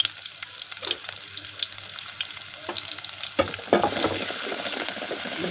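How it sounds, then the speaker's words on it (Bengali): Onions frying in soybean oil, a close crackling sizzle with stirring that swells louder and denser in the second half. "এখন তেল দিয়ে দিলাম, সয়াবিন তেল। এখন দেবো আমি পেঁয়াজগুলো দিয়ে দিলাম।"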